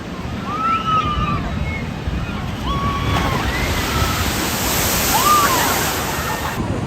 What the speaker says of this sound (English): Which is the big boat drop water ride.